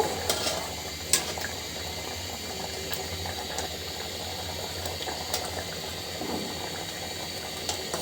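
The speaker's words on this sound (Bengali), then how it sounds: "ডাল দিয়ে খিচুড়ি রান্না করছি" A pot of vegetable khichuri with lentils simmers on the stove, giving a steady soft bubbling hiss with occasional faint clicks, close and without voices.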